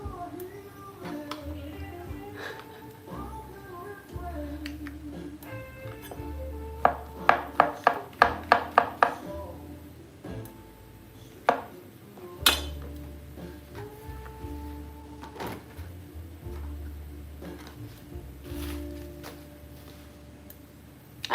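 A knife chops onions and garlic on a board in a quiet home kitchen, with a quick run of about half a dozen sharp cuts in the middle and a few scattered taps later, under a low steady hum.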